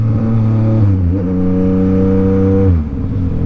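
A motorcycle engine revs hard during a wheelie, a loud close roar that climbs in pitch, holds high for a couple of seconds, then drops away.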